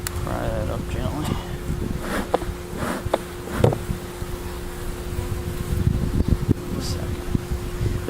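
Honey bees buzz around an open hive during an inspection, a steady droning hum with a constant tone under a person talking nearby, plus occasional clicks and knocks from handling the hive.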